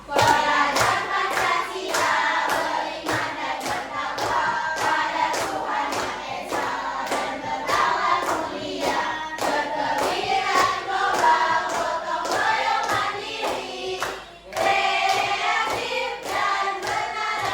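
A school class claps out the Pancasila lesson clap, a fast, loud, sustained rhythmic clapping pattern that keeps going for many seconds, with a brief break near the end before it resumes.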